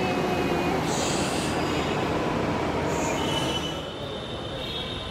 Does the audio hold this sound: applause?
no